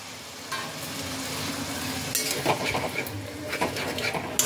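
Spice paste for tilapia curry cooks in a pan with a little added water. It gives a moderate sizzle and bubbling, broken by repeated spatula scrapes and metallic clinks against the pan, with no one talking.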